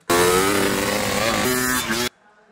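Motorcycle engine captured live as original sound for a cinematic B-roll edit, revving loudly and steadily for about two seconds with a rising pitch shift partway through, then cutting off abruptly into near silence.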